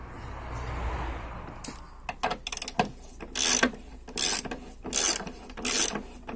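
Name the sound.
ratchet tightening engine mount bolts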